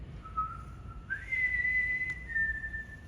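A single clear whistle holds one long note, then steps up to a higher sustained pitch and eases slightly down, close and unaccompanied.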